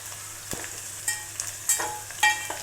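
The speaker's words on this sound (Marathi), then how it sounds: "लसूण नीट फ्राय व्हायला पाहिजे." Garlic frying in oil for Diwali chivda gives a low sizzle punctuated by sharp clicks and scrapes of stirring, close and fairly quiet.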